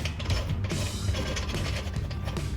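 Rays lug nuts twisted by hand onto a Honda Type R wheel: close, faint ratcheting clicks and metallic scraping repeat in an uneven rhythm over a low background rumble, with no talking.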